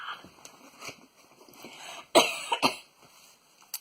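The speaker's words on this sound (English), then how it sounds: "I might be coughing a little bit" Several coughs, soft at first, then a louder, sharper pair of coughs close to the microphone, with a final brief cough at the end.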